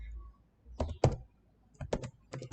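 A project name being typed on a computer keyboard, short clusters of crisp, close keystrokes separated by brief pauses, quiet and alone.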